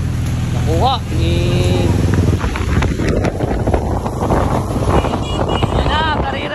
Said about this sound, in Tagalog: karera ng mga motor